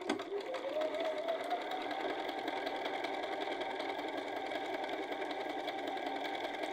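A sewing machine back tacks and then runs a 3/8 inch side seam on a field bag, a brief speed-up at the start settling into a steady, close mechanical whir that continues throughout.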